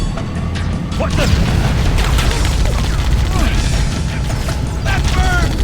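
Rapid gunfire and impacts in Halo: Combat Evolved on the Heroic campaign's Assault on the Control Room, a dense, loud fusillade of shots, bangs and whooshing energy weapons layered over each other, with voices calling out amid the battle.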